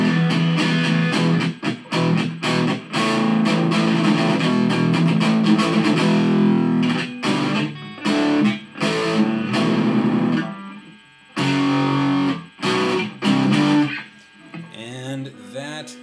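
An Agile AD-2500 electric guitar played on its neck pickup through a distorted amp rings out in choppy chords and notes, with a steady hum between them and brief gaps of near silence.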